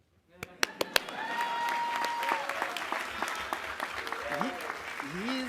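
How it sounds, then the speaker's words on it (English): Audience applause at a college commencement ceremony, a few sharp claps at first and then a sustained mid-level wash of clapping, with faint voices and a whistle mixed in. "One more time, give it a round of applause to this GOAT."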